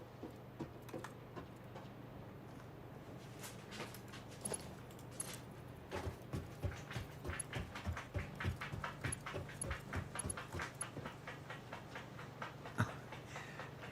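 A dog scratching its ear with its ears flapping, a run of quick soft flaps and rattles building in pace mid-clip, fairly close and quiet against a faint steady hum.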